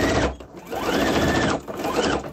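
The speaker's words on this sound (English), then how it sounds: "Then all I'm going to do is sew it just like you do." A sewing machine stitches fabric for a bowl cover with a steady rapid whir in two close, loud bursts separated by a short pause.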